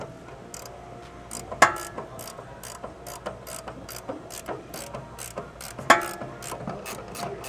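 A ratchet removes the nut and bolt from a Nissan G35's rear shock mount, a close, rapid clicking in repeated bursts punctuated by two sharp metallic clanks, with no talk.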